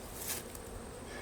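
Honeybees buzzing around a hive during a honey harvest: a dense, steady hum of many wings close by, swelling briefly, with no voices.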